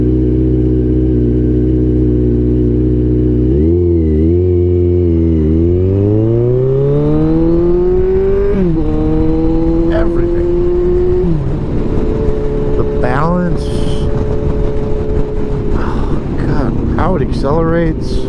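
A 2016 Kawasaki Ninja 1000 motorcycle accelerates hard, its engine note rising steadily through several gear changes under heavy wind noise, while a rider talks over it.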